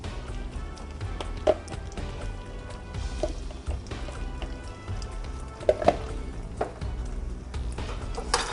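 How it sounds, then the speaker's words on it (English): A quart of hot chili is stirred into a dish, giving wet, squelching and clinking stirring noises with a few sharper knocks, up close and with no one talking. "We're going to stir in 1 quart of chili."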